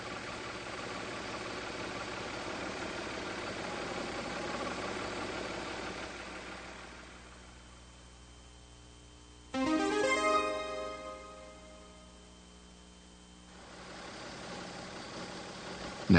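A Mazda MX-3 engine idles steadily at a low, even pitch, its hum dipping quieter midway before a brief louder burst, then settling back into the same smooth idle.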